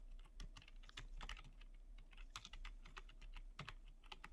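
Quick keystrokes on a computer keyboard as a job title is typed into a business card design, steady irregular clicks close up with a low mains hum underneath and no voice.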